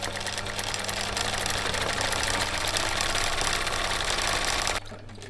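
Vintage rotary-hook sewing machine running continuously with a steady mechanical whir and hum, fairly close, stopping abruptly near the end and leaving a quieter background hum.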